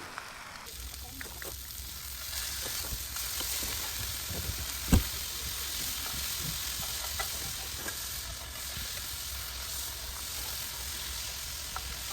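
Hamburger patties for Salisbury steak sizzling in a pan while camp cooking at a lake, a steady close hiss with a faint thump partway through.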